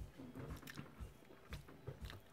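Close, quiet biting and chewing of a Tex-Mex steak burrito with tomato, corn, sour cream, avocado and cilantro, giving soft irregular crunches and moist mouth sounds in quick succession.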